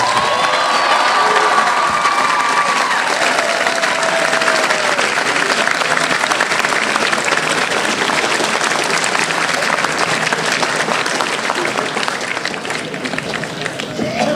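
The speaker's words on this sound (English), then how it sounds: "Give them a loud round of applause." Loud, sustained applause from a large audience at a school celebration honoring a National Blue Ribbon School, steady dense clapping with scattered cheers and shouts filling the whole stretch.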